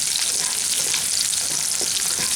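Chopped garlic and green chillies fry gently in a pan, producing an even, unbroken hiss of oil with faint stirring ticks throughout.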